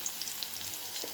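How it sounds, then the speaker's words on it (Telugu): Green chillies, onions and curry leaves sizzling in oil for masala egg rice, a soft steady fry with small pops and crackles close by, no voices. "ఫస్ట్ ఆయిల్లో నేను పచ్చిమిర్చి, ఆనియన్స్, కొంచెం కరివేపాకు వేసేసాను ఆల్రెడీ."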